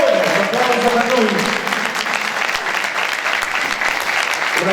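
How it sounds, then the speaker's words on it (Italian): Applause for the conductor of a Neapolitan orchestra, led by maestro Gennaro Carbone, a loud, sustained wash of clapping from the crowd that holds steady throughout, with a voice speaking over the start. "Un applauso per lui"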